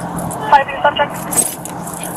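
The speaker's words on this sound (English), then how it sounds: "We just need the car key." Car keys jangle in a couple of short metallic bursts close by during a police traffic stop, with people talking throughout.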